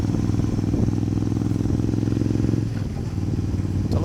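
A Suzuki Intruder 1400 cruiser motorcycle rumbling steadily on a big group ride alongside many other bikes, its engine droning loud and close with a brief dip in the middle.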